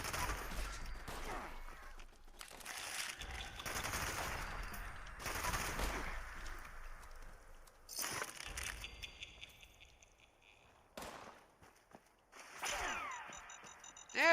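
Gunshots from a weapon in Fallout 76, coming in several loud bursts of rapid fire separated by quieter gaps, with sharp single cracks near the end.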